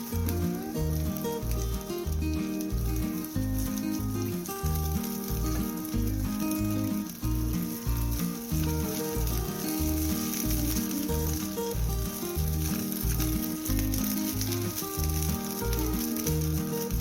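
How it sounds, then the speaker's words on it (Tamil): Burger bun halves toasting in a hot buttered pan for an egg burger: a continuous close crackling sizzle with rapid fizzing pops throughout, steady and fairly loud, no talking. "டோஸ்ட் பண்ணி எடுத்துடலாம்"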